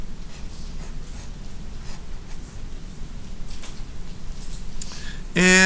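Marker or chalk scratches across a board in short repeated strokes while a free body diagram is drawn, fairly quiet and close, ending with a sharper burst.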